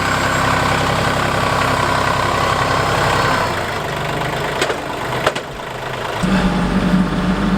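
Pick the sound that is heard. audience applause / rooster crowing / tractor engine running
tractor engine running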